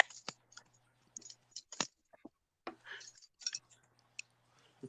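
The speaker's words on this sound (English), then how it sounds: "I can hear somebody typing." Typing on a computer keyboard, heard as faint, scattered clicks and short bursts of keystrokes in a quiet room, with brief voice fragments between them.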